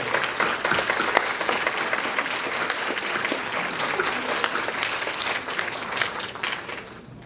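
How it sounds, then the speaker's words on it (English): Sustained applause from a large crowd at a school ceremony for seniors, steady and dense throughout, fading away at the very end. "Let's have one more round of applause."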